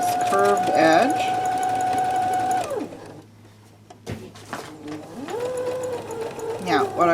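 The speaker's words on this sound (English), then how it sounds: "I'm going to sew 1/4 inch from the edge on this curved edge." A domestic sewing machine stitches a curved quarter-inch seam along the edge of a fabric face mask. The whir runs steadily, stops briefly, then starts again. Faint voices sound under it.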